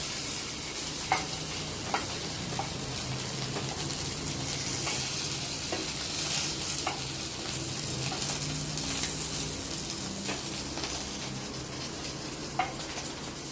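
Potato fries sizzle steadily in hot oil in a pan while being stirred, with a constant frying hiss broken by occasional light scrapes and clicks of the utensil against the pan, and no talking.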